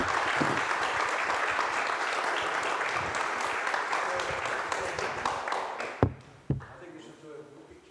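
Conference audience at a Ljubljana forum on artificial intelligence applauds loudly and steadily for about six seconds, then the clapping fades out to a few last isolated claps.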